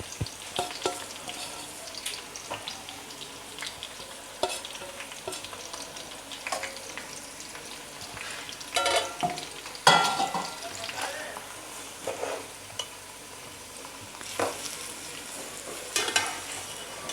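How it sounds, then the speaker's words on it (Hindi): Half a kilo of thinly sliced onions sizzle and fry in ghee in a pot, a continuous crackling hiss with occasional stirring scrapes, close and moderately loud. "और अब मैं इसको लाल कर रही हूँ।"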